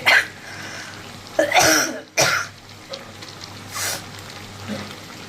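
A person with a cough in a home kitchen gives several close, harsh coughs and throat clearings, spaced a second or two apart over quiet background noise.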